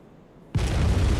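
A cannon blast in Bloodborne, one sudden heavy boom that cuts in after a quiet moment and rolls on as a dense, loud roar to the end.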